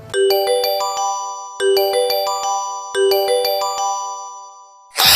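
A phone ringtone plays a bright, repeating chime melody three times in quick cycles, loud and close, cut off by a burst of noise at the end.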